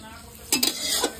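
A spatula scrapes and clatters in a pan of fried rice with beans, carrot and capsicum, giving a couple of quick metallic stirring strokes over a faint, steady sizzle.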